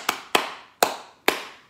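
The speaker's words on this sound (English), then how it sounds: "I can clap my hands." Four sharp hand claps with even gaps, close and fairly loud, with a short decay after each, in a preschool Spanish lesson.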